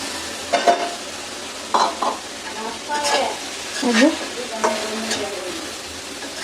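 Bitter gourd and green chillies fry in a pan with a constant sizzle, broken by irregular scrapes and clatters of stirring. A voice is faintly present.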